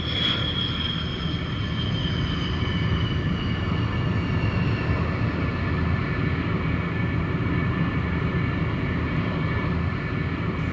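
A North American F-86 Sabre, a Cold War jet, roars steadily on its landing approach, with a dense turbine rumble and a high, slowly falling whine carrying on without pause and with no voices.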